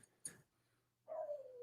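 A novelty dog key plays a short electronic dog bark sound effect: a brief sharp yelp followed after a pause by a longer, sliding bark-like tone, fairly close and alone without talk.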